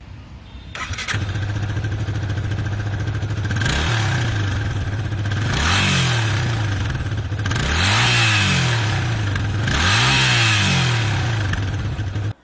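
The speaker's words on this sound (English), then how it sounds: "it also sounds amazing because it has been specially tuned to give out a sporty exhaust note" A Yamaha FZ motorcycle engine with a tuned sporty exhaust starts and settles into a steady idle, then gets four sharp throttle blips, each rising and falling in pitch, loud and close.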